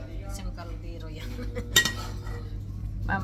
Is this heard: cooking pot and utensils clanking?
yes